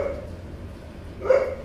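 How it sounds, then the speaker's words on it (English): A dog gives a couple of short barks at moderate distance, with a quiet pause between them. "My apologies for the barking,"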